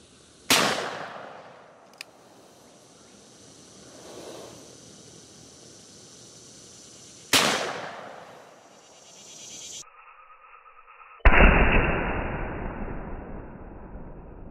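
Ruger gunshots fired at an axe blade with two cans of Diet Mountain Dew behind it, heard as three sharp, loud cracks spaced apart, each followed by a fading echo, with quiet outdoor background between shots.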